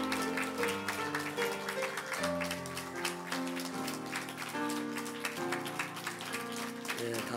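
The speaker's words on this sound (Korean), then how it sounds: "우리 사랑하는 자녀들 나갈 때 힘차게 박수해 주세요." A Sunday worship congregation at a Korean church claps vigorously and steadily as children leave, the dense applause running throughout over sustained instrumental music.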